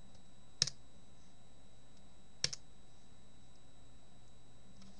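Two crisp computer mouse clicks, about two seconds apart, stand out clearly against a quiet room hum while creating a file in Pinnacle Studio 12 video editing software.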